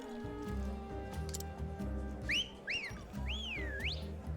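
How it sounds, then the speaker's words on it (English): A character whistles a few rising and falling tones in the video game Octopath Traveler, set over a ticking, clicking musical backing at low volume. "That was actually a very good whistle."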